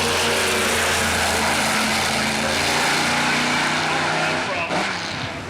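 A Pro Mod drag racing car at an IHRA Spring Nationals meet at Rockingham, North Carolina, roars loudly and continuously, a dense engine blast that holds steady and then eases slightly near the end.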